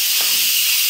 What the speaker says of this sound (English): Instant pots are steaming.